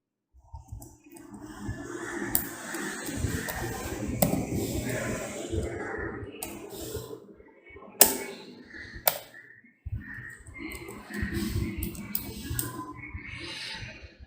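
Steady, rapid clicking of computer keyboard keys as a command is typed into a Windows command prompt, close and continuous with a few brief pauses and sharper isolated clacks.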